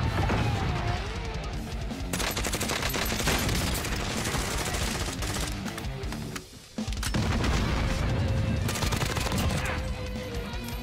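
An M4A1 automatic rifle fires in the video game Call of Duty: Warzone, with dense, loud bursts of automatic fire and impacts sustained across the clip, broken by a brief pause midway.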